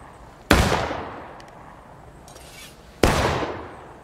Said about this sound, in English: Nice shooting, Sven.